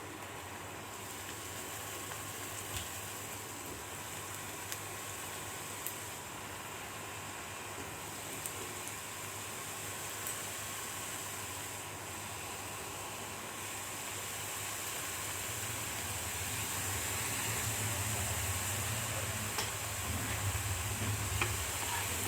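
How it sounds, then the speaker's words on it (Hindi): Besan chakki pieces deep frying in a kadhai give a steady, soft sizzle and hiss that builds slightly louder toward the end. It is close and continuous, with no voices. "अब इसको हमको डीप फ्राई करना है। अब मैं इसको कढ़ाई में डाल रही हूँ"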